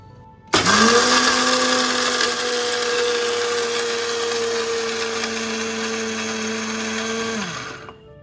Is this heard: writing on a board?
no